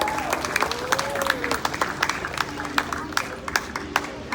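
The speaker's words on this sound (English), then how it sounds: "we'll go ahead and give them a round of applause" Scattered clapping from an audience at an animal ambassador presentation, a light round of applause with irregular sharp claps, while a voice talks briefly over it.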